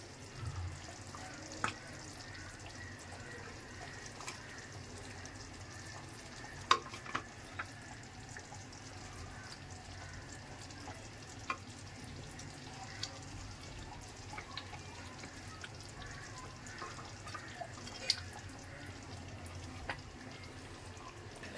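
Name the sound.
fried fish stirred into sizzling gravy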